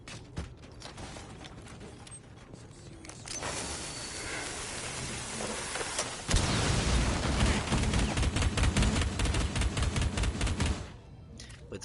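Gunfire in Rainbow Six Siege as Ela shoots out of a breach, dense bursts of automatic fire with mechanical clatter, steady at first and then louder and fuller from about six seconds, with no talking.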